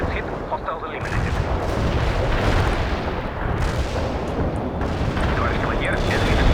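Heavy artillery shells burst in World in Conflict, a real-time strategy game, as dense, continuous booms and rumbling blasts that stay loud for the whole stretch, with surges of explosive noise and radio chatter beneath.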